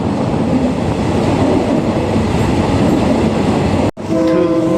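A train running from Mahachai pulls into Wat Sing station, a loud steady rumble of wheels and carriage noise that cuts off abruptly near the end, followed by a tonal hum and horn-like tones as it arrives.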